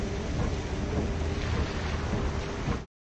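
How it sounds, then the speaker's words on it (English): Steady heavy rain from the 1960 film Psycho roars with a low rumbling undertone, dense and continuous, then cuts off abruptly. "This rain with the music?"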